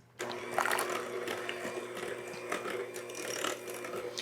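An electric mixer whirs steadily as it beats pumpkin bar batter with two cups of sugar, a continuous mechanical hum with a rattling edge that starts abruptly and runs without pause, close up and with no talking.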